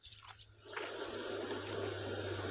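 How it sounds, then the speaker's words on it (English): Insects and bees buzz and chirr steadily in a quiet flowering meadow on a farm in Portugal, a thin continuous high whine with a few faint bird chirps. "It's a hive of insects and bees."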